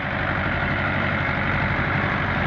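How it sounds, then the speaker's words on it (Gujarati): A small Swaraj tractor engine runs at idle nearby, a steady loud diesel rumble with even vibration and no pauses. "આ નાનું સ્વરાજ ચાલી રહ્યું છે"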